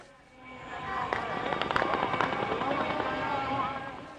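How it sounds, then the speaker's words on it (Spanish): Celebratory gunfire shot into the air in Gaza crackles as a rapid burst of sharp reports over distant crowd noise, with voices in the background. "Tiros al aire, una manera de festejar en la cultura árabe"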